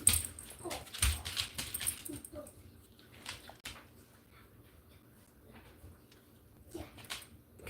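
A dog whimpers and whines in short, soft bursts indoors, with scattered faint rustles between the cries and no clear speech.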